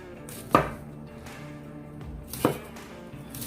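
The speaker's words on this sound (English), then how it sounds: "Got a head of broccoli. We're just gonna go ahead and cut it into little florets." A knife cuts a head of broccoli into florets on a cutting board, two distinct sharp chops about two seconds apart, close and clear against a quiet kitchen.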